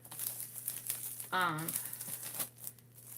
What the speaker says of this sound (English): It's not really an unboxing because it's not in a box, but it's an unwrapping.